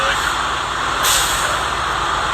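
A loud burst of hissing air cuts through steady heavy engine rumble as a truck's air brake releases nearby at a scrap yard scale.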